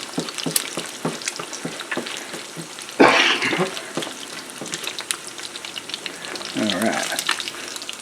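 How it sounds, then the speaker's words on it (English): Eggs frying in hot grease, with the grease spooned up over their tops, for biscuits and gravy: a close, steady crackling sizzle with sharp spatters and a louder splashing burst partway through, while someone says a word. "Splash some of that hot grease up there and get that top side cooked a little bit."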